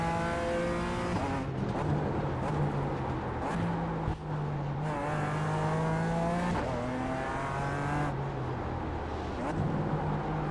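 A Toyota GR86 laps the Mugello race track in a racing simulation, its engine droning continuously and rising and falling in pitch through shifts and braking, with no talk.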